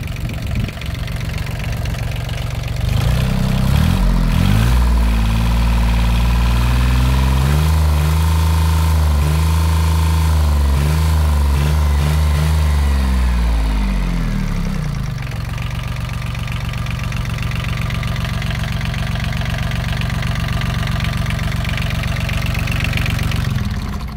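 Yanmar 3T63 diesel boat engine running, a loud low throbbing rumble that swells and lowers in pitch midway, then settles back to a steady idle-like chugging.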